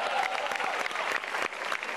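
Audience applause at a stand-up comedy show, a full, continuous wash of many hands clapping with faint crowd murmur underneath.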